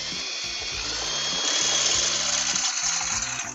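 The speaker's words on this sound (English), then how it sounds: "drilling through the aluminum" A power drill bores through aluminum for a travel trailer battery lock, giving a loud, close, high-pitched whine that holds steady for a few seconds before tapering off.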